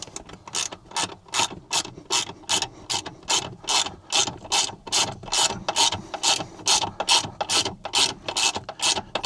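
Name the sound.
ratchet tightening Torx bit bolts on cupholder mount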